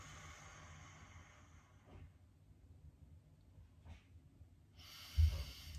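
During a gentle morning stretching routine, a person breathes out in soft, quiet exhalations, ending with a louder, sharper breath near the close.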